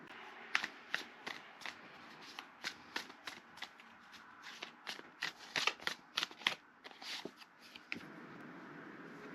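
Tarot cards are riffled and shuffled close up in a steady series of quick papery flutters and soft slaps, about a dozen bursts in a row with no talking.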